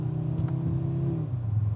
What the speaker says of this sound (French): On va déjà faire chauffer un peu la bagnole.